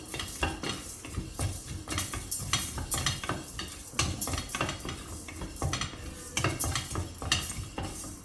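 Coriander seeds being dry-roasted and stirred in a kadai, with a steady rhythm of scraping and rattling from the spoon against the metal pan and a soft sizzle underneath, close and continuous.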